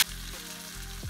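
Curry leaves and cumin hit hot coconut oil for an avial tempering, crackling in a loud, close sizzle that holds steady for about a second, with no talking.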